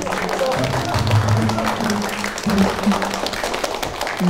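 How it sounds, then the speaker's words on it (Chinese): Warm applause from an audience greets a teacher being introduced on stage, a steady wash of clapping that runs under voices and tonal background music. "下面让我们用最热烈的掌声欢迎别里科夫老师"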